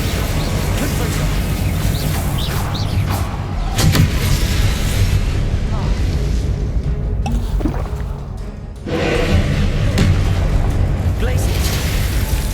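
Spell blasts in the video game Hogwarts Legacy, icy and fiery casting effects, burst out in a dense, loud wash of booms and whooshes over a constant game-sound bed, with a voice speaking the spell names.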